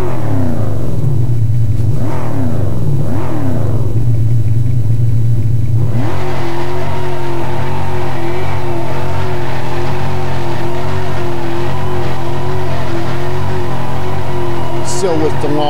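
A synthetic car acceleration effect built in Wavepad Sound Editor: loud revving engine tones rise and fall in repeated sweeps, then settle into a sustained, dense engine roar with a wavering pitch.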